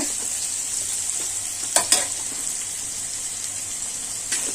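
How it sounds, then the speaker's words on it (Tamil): Drumsticks and dried fish frying in a pan, a continuous close sizzle with a few brief clatters of stirring. "ஒரு 2 நிமிஷம் இதே வதக்கிக்கோங்க."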